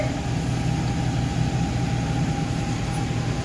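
Toyota Fortuner engine idling after an ignition start, a steady low rumble with a constant hum, no voices.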